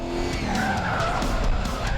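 A 1970 Dodge Daytona NASCAR-built muscle car skids hard, with sustained loud tire squeal over a roaring engine, steady and close throughout.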